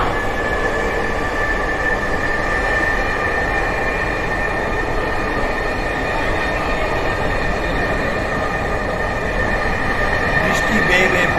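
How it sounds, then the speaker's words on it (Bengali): A metro rail train runs steadily through heavy monsoon rain in Dhaka, giving a constant loud broadband rumble and hiss throughout with no gaps. "আমরা এই বর্ষার দিনে প্রচুর বৃষ্টির দিনে মেট্রো রেল ভ্রমণ করছি"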